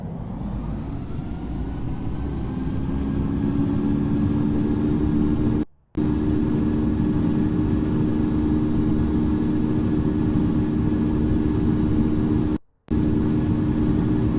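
A steady, unbroken airliner engine roar on the takeoff roll in the Infinite Flight game, departing Newark runway 29, holds loud and even throughout, with two brief cutouts and no voices.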